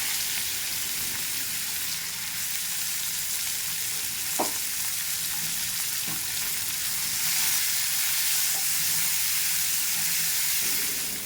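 Cumin, radhuni seeds and chopped onions fry in hot oil for a Bengali kankur (cucumber) curry, a steady close sizzle and hiss with a couple of faint clinks, no talk.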